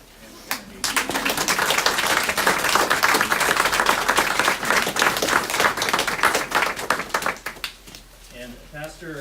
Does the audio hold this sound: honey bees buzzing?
no